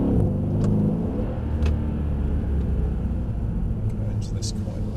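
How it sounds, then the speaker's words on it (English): A Mercedes E-Class engine revs and drones as the car slides sideways on ice. The engine note rises and falls under a voice, and there are a few short clicks and squeaks. "you can drive 2 tons of E-Class sideways on ice"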